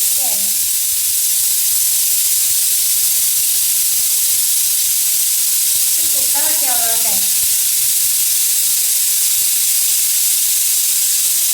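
A loud, steady hiss of escaping steam from a pressure cooker whistle runs throughout, with a brief voice near the start and a short burst of speech midway.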